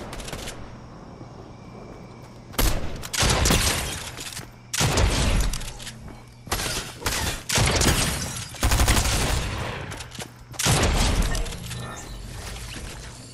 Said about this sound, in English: I hear people shooting here